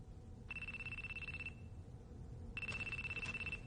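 An electronic phone ring sounds twice in short trilling bursts separated by a pause, over a quiet low background rumble.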